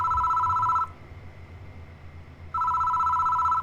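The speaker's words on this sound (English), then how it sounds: "The phone rings." A telephone rings in the horror video game Death Mark: two loud, steady electronic ring bursts separated by a pause of near silence, close and clear with no talking.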